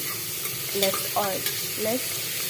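Onions and tomatoes fry in oil in a pan for a green peas curry, giving a steady close sizzle broken by a few short stirring scrapes.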